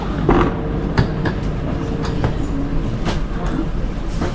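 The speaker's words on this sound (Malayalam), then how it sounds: "ഇനി ഞങ്ങൾ പോകുന്നത് ഈ ഒരു ട്രെയിനിലാണ്" A Swiss train rumbles steadily, heard from inside a carriage, with rhythmic clicks of the wheels on the rails and no talking.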